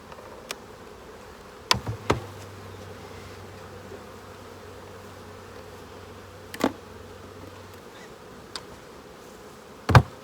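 Honeybees at a hive fitted with a pollen trap give a steady, fairly quiet drone, broken by a handful of sharp clicks and knocks close by.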